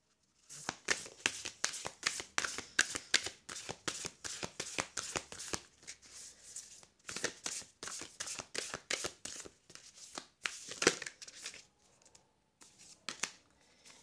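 Oracle cards being shuffled by hand for a tarot reading: rapid, close, papery riffling strokes in quick bursts, with short pauses and a final few sporadic flicks.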